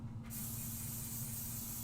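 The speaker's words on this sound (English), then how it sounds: "I'm going to use a little bit of Pixie Spray." Pixie Spray being sprayed, a single short burst of hiss that starts abruptly and holds steady at close range, with no voices over it.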